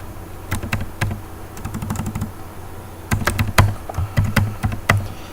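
Computer keyboard keys clatter in quick bursts of typing as Java code is entered, with close, crisp clicks, short pauses between runs and no voices.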